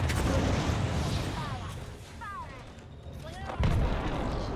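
Grenade explosions in a multiplayer shooter video game: a muffled, continuous battle din builds to one loud, close blast near the end.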